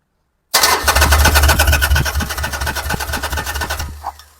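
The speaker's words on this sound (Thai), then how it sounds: "ถ้าต่อตรงมันต้องดังเหมือนเรากดปุ่มสตาร์ทแหละ" An engine starter cranks loudly and rapidly for several seconds, a fast churning whir that slows slightly before cutting off.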